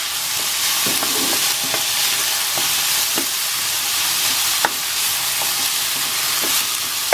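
A spoon scrapes and knocks through carrot and potato cooking in a pan, regular stirring clacks over a steady loud sizzle, no talking.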